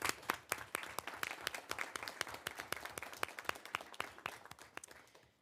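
A small group applauds panelists at a school board work session, with distinct, fairly distant individual claps in an irregular patter that fades out toward the end.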